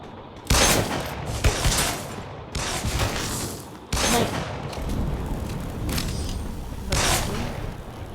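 Shooting video game gunfire, loud dense bursts of automatic fire with sharp repeated onsets across the whole stretch, heavy and close with no talk over it.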